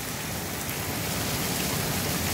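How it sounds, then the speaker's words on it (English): A heavy rain and hail storm pours down with water rushing off a roof into overflowing gutters, a dense steady roar with no let-up and no voices. "Freaking water rushing off the roof."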